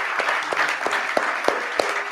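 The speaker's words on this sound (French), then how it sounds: "Alors, applaudissons quand même," Audience applause at a public talk at Sophia Antipolis, France: dense, steady clapping from a crowd throughout, with a few sharper individual claps standing out and no voices.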